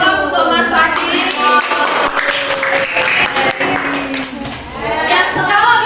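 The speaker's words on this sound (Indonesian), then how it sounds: "Beri aplaus untuk Mas Fadil." Classroom applause for a student after a light refraction demonstration, a steady patter of clapping from a small group of students lasting several seconds under a teacher's voice.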